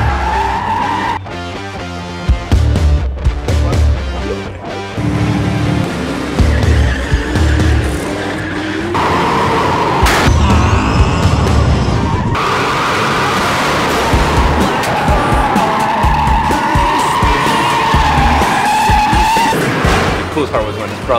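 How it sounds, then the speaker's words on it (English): Drift cars slide close together on a track, their tires squealing in long, wavering howls over roaring engines, loud and near, with a person talking over parts of it. "That's from drifting with the Drift Brothers, man."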